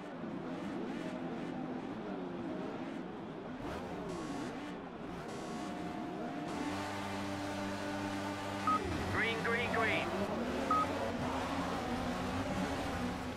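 Race car engines in Project CARS revving and rising in pitch at a race start at Imola, several tones sweeping up and down together, held fairly low under someone talking.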